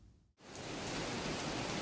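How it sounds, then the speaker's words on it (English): Heavy rain pours down in Sichuan province, southwestern China, a dense continuous hiss of downpour that swells in after a brief gap and stays loud and steady. "Heavy rains drenched some parts of China's southwestern Sichuan province over the weekend."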